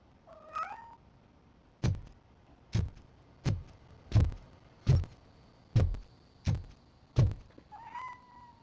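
A cat named Grumpy in the Robocop Justice Delivered game gives two short meows, one at each end, framing a run of eight heavy, evenly spaced thuds in the middle.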